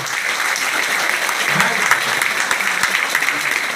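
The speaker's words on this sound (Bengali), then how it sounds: "একটা হাততালি বড়সড় করা উচিত" An audience in a hall applauds for an incoming guest speaker, steady dense clapping throughout with a few louder claps standing out.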